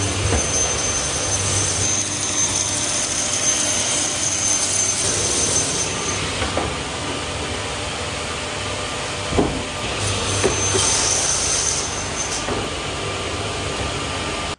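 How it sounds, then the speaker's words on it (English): A wide belt sander working insulation panels in a workshop, giving a loud, steady machine roar with hiss and whine that runs throughout, with brief surges in intensity near the middle and no talking. "I'm going to thin the insulation down on the bandsaw, then sand it through the wide belt to get it to an even thickness."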